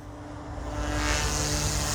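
An OMPHOBBY M2 V3 RC helicopter flies fast circles, a steady, buzzing motor whine with a high rotor hum, growing slightly louder as it sweeps past nearby; no voices.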